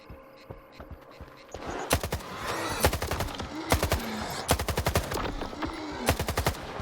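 Stalker 2 gunfire: after a quiet opening with a few faint ticks, loud bursts of rapid shots fire in repeated clusters, sharp and close, continuing to the end.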